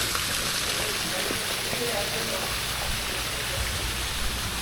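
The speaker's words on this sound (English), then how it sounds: "And there are lots of waterfalls." Waterfalls at Rock City on Lookout Mountain give a dense, steady rushing wash of falling water, loud and close, running unbroken throughout with no voices.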